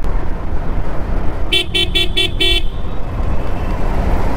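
Five quick toots of a vehicle horn sound on a motorcycle ride, clear and close over steady road and engine noise.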